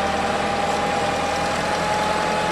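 Daewoo 5k cushion-tire forklift with a newly rebuilt engine running steadily while the mast tilts forward and back, a loud continuous engine drone with a steady whine, no talking.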